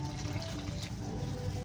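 Water is poured into a pie dough mixture of margarine for a buko pandan pie, a soft continuous trickle heard quietly over a low background hum.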